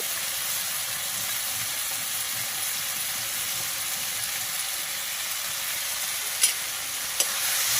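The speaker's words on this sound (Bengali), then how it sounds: "ভালোভাবে কষে নেব" Spice paste with turmeric and salt fries in oil for a Bengali bhetki fish-bone chorchori, giving a steady, close, even sizzle while being stirred, with two brief sharp clicks near the end.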